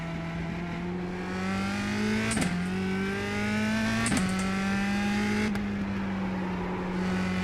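A USF2000 open-wheel race car in iRacing holds a steady buzzing engine note, revs dipping and climbing sharply at a couple of gear shifts, heard alone and fairly quiet.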